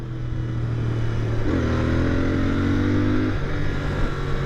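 A 2021 Royal Enfield Continental GT 650 motorcycle engine revs up sharply, holding a rising, buzzing pitch for about two seconds before dropping back to a steady idle.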